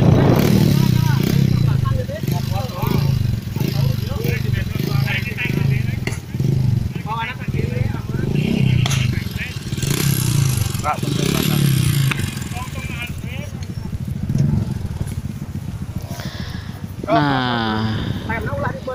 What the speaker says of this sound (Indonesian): pas ada motor cross nih ya, ada rombongan motor cross nih